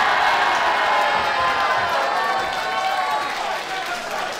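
Crowd at a Pro Wrestling Ulster show cheering and shouting as the action spills outside the ring, a steady broad roar of noise with commentary-style talk over it throughout.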